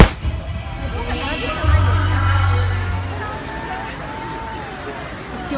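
Fireworks at the Fukuroi fireworks festival: a deep, rolling boom swells and fades in the distance beneath a continuous murmur of nearby voices and outdoor crowd noise.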